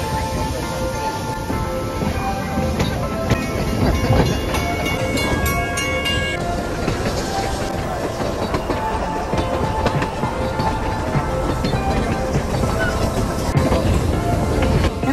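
Puffing Billy, a preserved steam train near Melbourne, rolls along its rails with a steady low rumble and rhythmic clatter of carriages, the sound loud and continuous with some higher metallic tones and faint talk mixed in.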